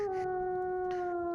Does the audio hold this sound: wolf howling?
yes